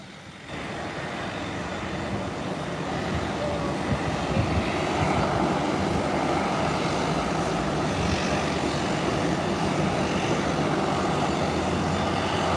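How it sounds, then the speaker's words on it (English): Sunrise Airways Embraer 120 turboprop airliner taxiing on an airport taxiway, its engine drone swelling from quiet to a steady, fairly loud roar that holds throughout. "Coming beside this Ambria 120 from Sunrise Airways. It has now entered the taxiway."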